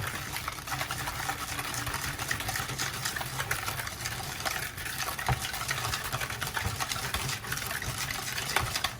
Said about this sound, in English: I'm gonna give it a quick whisk.